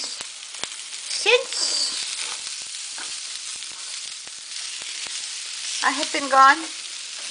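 Carrots and hamburger meat fry and get stirred in a pan for a Pad Thai stir fry, with a steady sizzle and scraping stirs throughout while someone talks over it.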